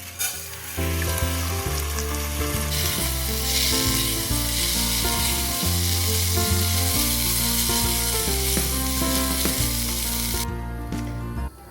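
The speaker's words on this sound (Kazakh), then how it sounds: "Енді осы қызған майға тазалап жуылған күрішімізді салып қуырамыз." Washed rice fries in hot oil in a cauldron, giving a loud, continuous sizzle that persists throughout while steady background music plays beneath it.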